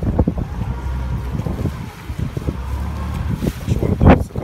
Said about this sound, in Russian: Лодка с оборудованием и компрессором.